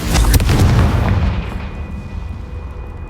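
A Confringo blasting spell in Hogwarts Legacy detonates with a loud, close boom that cracks sharply and then rumbles away into a fading tail.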